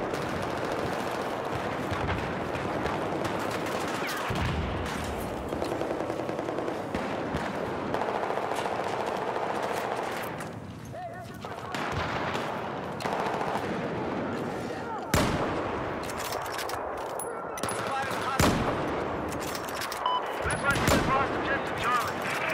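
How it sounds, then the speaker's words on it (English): Machine gun fire and other gunshots in the video game Battlefield 4 crackle in dense, overlapping bursts across a busy battle scene, loud and continuous, with brief pauses and some voices mixed in. "Hostile machine gunners."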